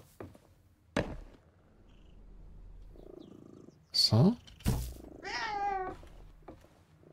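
A cat in the video game Reka gives a drawn-out meow near the end, following some soft thuds and background game sounds, while a person speaks briefly.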